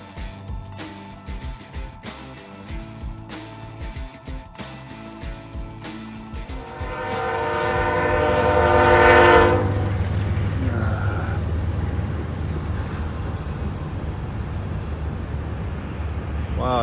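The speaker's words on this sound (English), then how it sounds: "I came that close to filming a cool train right here." A CSX freight train rumbles past with rhythmic clacking, then a long, loud horn blast sounds before the noise settles into a steady low roar.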